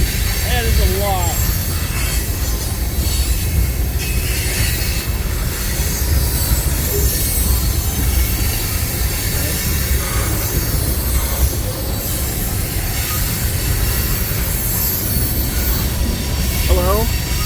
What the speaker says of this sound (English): I'm in Durand watching a train go by.